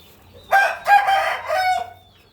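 A single young Burmese rooster crows once, loud and close, a full cock-a-doodle-doo lasting under two seconds against a quiet background.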